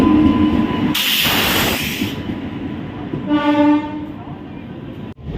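A passenger train at a station: a sudden loud burst of hissing air, then a sustained horn-like tone over the rumble of the platform, ending with a sharp thud.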